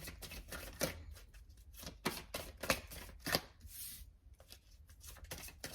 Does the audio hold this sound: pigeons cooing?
no